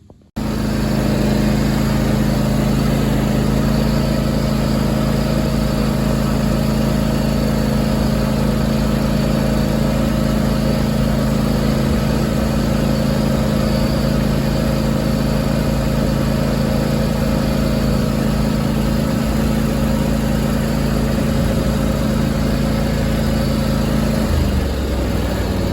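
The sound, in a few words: finish mower engine running while driving to the lawn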